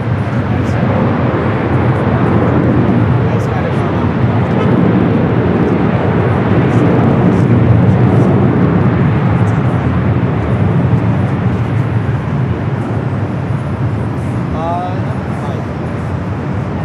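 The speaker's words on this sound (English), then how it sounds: "That is the Delta 767 400ER, the flight coming in from JFK, finally touching down at 25 left there on the south." A Delta 767-400ER arriving from JFK touches down on runway 25 left at LAX, a loud continuous broadband jet roar that holds steady throughout, with a voice talking over it.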